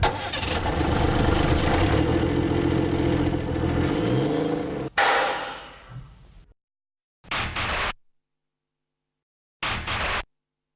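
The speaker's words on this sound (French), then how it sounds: "Ce sont des vieux camions de l'armée" An engine of an old army truck converted to a flatbed runs loud and steady, then cuts off abruptly, followed by two short bursts of engine noise separated by silence.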